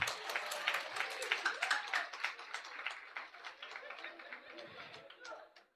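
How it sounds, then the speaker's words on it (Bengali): An audience claps and applauds at a talk on artificial intelligence, a dense patter of many hands at moderate distance mixed with crowd chatter, fading toward the end. "একটা বিরাট হাততালি সবার জন্য"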